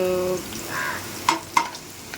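Whole spices (cinnamon, pepper, bay leaf and small cardamom) fry in oil with a soft, steady sizzle, broken by a couple of sharp pops and stirring clinks close by.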